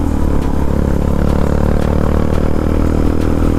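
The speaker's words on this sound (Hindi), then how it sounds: "और सुन सकते हो आप एग्जॉस्ट का नोट, चारों राइडर लाइन से जाते हुए" Several motorcycles, among them a Bajaj Dominar 400 and a TVS RR 310, ride past in a line on an Uttarakhand hill road, their exhausts producing a loud, close, steady engine drone with a faint rhythmic clatter and no voices.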